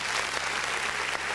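Audience applause fills the room after a host introduces attorney Tasha Simmonds at a community event, a steady dense wash of clapping hands throughout with no voices on top.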